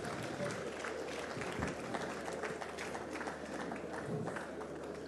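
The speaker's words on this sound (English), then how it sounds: "A round of applause for them, please." Crowd clapping at an anniversary dinner, a busy continuous patter of hands with scattered sharper claps, mixed with room chatter throughout.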